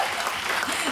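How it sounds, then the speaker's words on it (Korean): A brief burst of dense audience applause at a K-pop debut single showcase, continuous clapping that is fairly loud and close throughout. "박수 한번 주세요."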